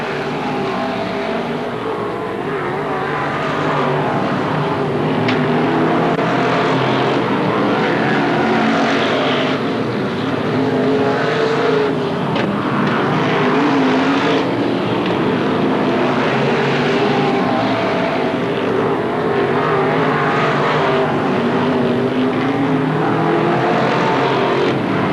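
Modified race cars at Merrittville Speedway in 1988 roaring around the track, engines droning loudly and continuously with rising and falling pitch as the pack passes, no talk heard over the racing.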